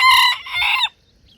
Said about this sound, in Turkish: Tavuğunu çıkar dışarı tavuğunu.